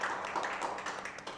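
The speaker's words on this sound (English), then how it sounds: "Everyone, give yourselves a round of applause." A live studio audience applauds during the opening of a recorded talk-show episode: dense, steady clapping from a room full of people, fairly close and continuous, with no talking.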